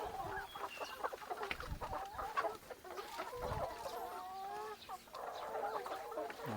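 Several chickens cluck and murmur continuously nearby while being fed, with scattered louder calls and soft rustling underneath.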